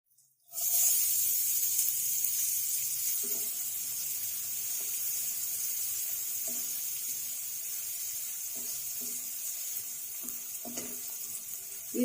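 A steady, hissing sizzle of onions frying in a pan for restaurant-style palak egg curry, with whole spices and cumin, runs continuously at even loudness with faint occasional clinks over it, with no talk.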